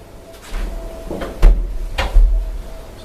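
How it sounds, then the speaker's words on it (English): A chair is shifted aside in a fitness studio with TRX straps, giving a few short scraping knocks and bumps spaced about half a second apart, fairly close and loud with no talking. "I'm going to move the chair away now."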